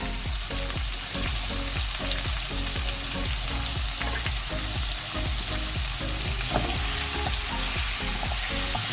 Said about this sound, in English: Just mix them. Just keep on stirring.